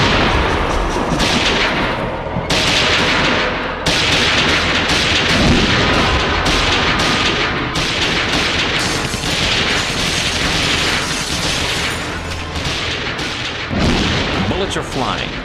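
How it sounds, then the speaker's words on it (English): Assassins opening fire inside a Prohibition-era chop house, loud close bursts of rapid gunshots in quick succession with clattering mechanical sounds, sustained for the whole stretch. "burst into Dutch's inner sanctum and open fire"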